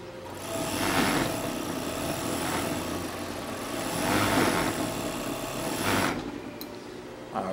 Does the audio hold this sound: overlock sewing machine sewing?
yes